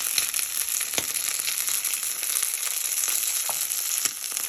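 Prawn and potato cakes fry in a pan, a steady broadband sizzle with faint crackles and a few soft pops, close and continuous without any talk.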